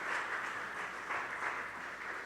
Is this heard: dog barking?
no